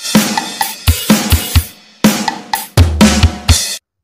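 A drum kit plays a steady beat, with kick, snare and cymbal hits in a clear repeating pattern that stops abruptly.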